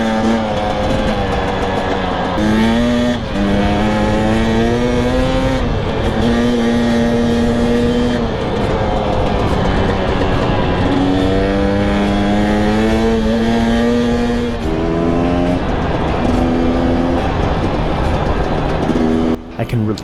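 A Husqvarna TE250i dirt bike ridden along flowy single track in Colorado, its two-stroke engine loud and close, revving up and down continuously with rising and falling pitch and only brief dips in throttle.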